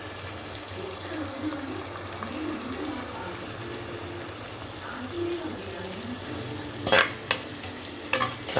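Cashews frying with tomato in a pan for a drumstick and potato curry, a steady low sizzle with occasional stirring scrapes and a few sharper clinks near the end.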